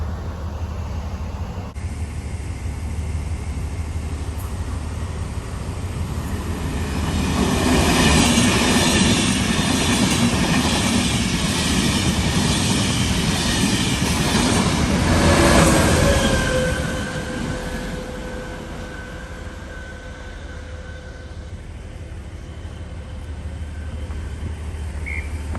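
The Enterprise train passes through a station in Northern Ireland, a loud rumbling roar that builds and holds with wheel squeals and faint clatter, then fades into a lingering whine and distant rumble.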